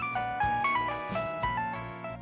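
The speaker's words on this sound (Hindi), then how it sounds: "इसी दौरान उसके शौहर का फोन आ गया।" A melodic electronic ringtone plays a repeating pattern of bright tones, steady and fairly loud, with no voices.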